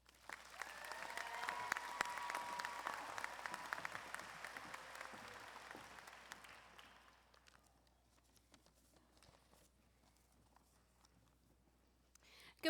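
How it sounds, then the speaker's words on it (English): A commencement crowd gives a college business student speaker a warm round of applause, dense sustained clapping from a large audience that swells early, then thins into scattered claps and quiet. "Please join me in giving a warm round of applause to our College of Business student speaker"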